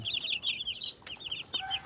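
High, rapid peeping of chicks fills the clip, with a soft hen cluck or two underneath, close by and moderately quiet.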